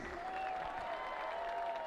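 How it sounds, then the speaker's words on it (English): Faint, steady crowd applause from spectators at an outdoor high school all-star football game in Hays, Kansas, greeting the stadium PA announcer. It is a soft, distant wash of clapping with a faint tone running beneath it. "Can we get a round of applause for Steve?"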